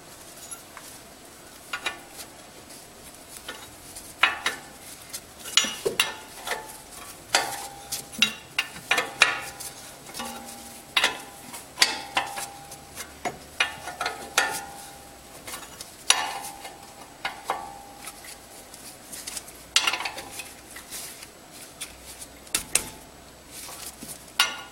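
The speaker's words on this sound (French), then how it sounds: "Ensuite, clé de 17." Metallic clicks and clanks of a 17 mm wrench working on the front wheel bearing of a Suzuki Jimny, sharp irregular taps and ratcheting knocks scattered across a quiet garage background.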